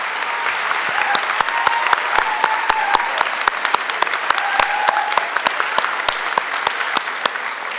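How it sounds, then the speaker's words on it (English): Audience applause fills a graduation ceremony hall in Tennessee, a steady wash of many hands clapping with sharp individual claps standing out, sustained at even loudness throughout. "I'd like you to join me in giving them a round of applause."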